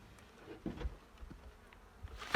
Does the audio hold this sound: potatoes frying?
no